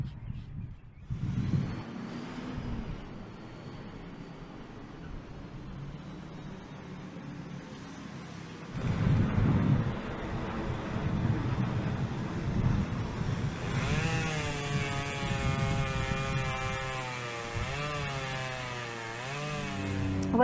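A chainsaw carves a wooden turkey sculpture, buzzing steadily close by, then rising into a louder, higher whine with wavering pitch as the cuts bite in.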